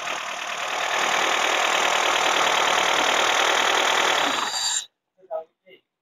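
A Honda Civic engine under restoration idling after being restarted, a loud close steady mechanical whir that cuts off sharply near the end, followed by brief voices.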